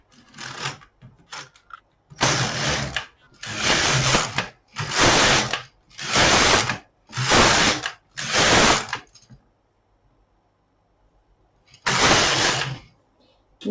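A knitting machine carriage is pushed back and forth across the needle bed, knitting rows of waste yarn. It makes about six loud, rasping mechanical sweeps of roughly a second each, separated by brief pauses, with a longer gap before the last pass.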